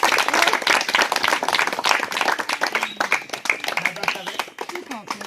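A village crowd gathered around a street performer breaks into rapid, scattered clapping on cue, close and lively, with voices talking over the applause.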